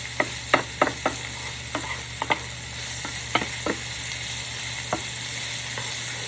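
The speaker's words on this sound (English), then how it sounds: "just add a little minced garlic that comes in a jar" Minced jarred garlic sizzles in a pan with a steady, close hiss, broken by sharp spoon taps and scrapes that come in irregular clusters. A faint low hum sits beneath, and no one speaks.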